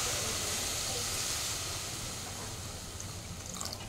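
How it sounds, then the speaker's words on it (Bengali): Water poured into a pan of hot crab curry masala sends up a steady, loud sizzling hiss that slowly eases over a few seconds, with no voices. "এবার আমি জলটা দিয়ে দিচ্ছি"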